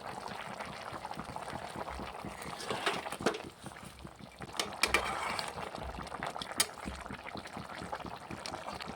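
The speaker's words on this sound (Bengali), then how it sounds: "বন্ধুরা দেখুন আমার তরকারিটা ফুটে এসছে" Chicken rezala curry bubbling in a pot on a gas flame, a steady soft simmer of popping bubbles with a few louder plops, faint and close, no talk.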